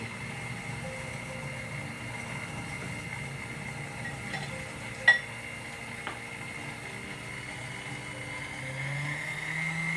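An electric mixer runs steadily on medium speed, beating butter, sugar and egg for muffin batter, a constant whirring hum with one brief knock partway through and a slight rise near the end.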